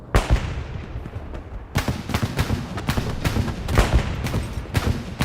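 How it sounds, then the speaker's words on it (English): Strafing-run gunfire in Hell Let Loose during a large multi-community battle: dense bursts of rapid shots and blasts, loud and close, recurring in heavy volleys over a constant rumbling battlefield. "Oh, this strafing run."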